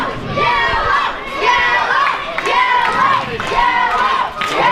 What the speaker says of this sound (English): You can hear the kids cheering for Bo Ring.